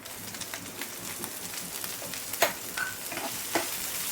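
Capsicum being added to and stirred in a pan of frying ginger-garlic paste, giving a steady close sizzle with a few sharper scrape clicks, no talk.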